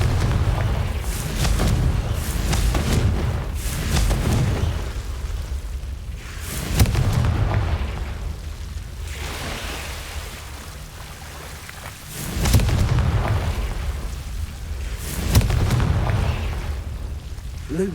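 Confringo blasting spells fired in a Harry Potter video game, each a booming explosive burst over a steady rain-like rumble, landing at irregular intervals roughly every few seconds.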